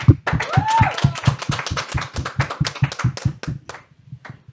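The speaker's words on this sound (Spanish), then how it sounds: "La despedimos con un fuerte aplauso" Clapping at a Spanish-language Christian talk program, a steady rhythmic beat of hand claps near and fairly loud, with a singing voice riding over it before tapering off.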